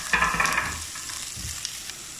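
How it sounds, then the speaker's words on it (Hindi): Chopped onion drops into a hot pan for vegetable spring rolls and starts sizzling loudly, with a few stirring scrapes early on before the frying settles into a steady, softer crackle. "अभी सिर्फ प्याज डालेंगे और इसको थोड़ा सा पिंक होने तक बनाएंगे"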